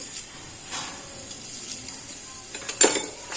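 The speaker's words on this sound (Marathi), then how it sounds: "आता मी जिरे मोरी टाकत आहे" Cumin seeds tipped into hot oil in a kadai for a Maharashtrian katachi aamti, giving a soft continuous sizzle with a few louder crackles near the end and no talk.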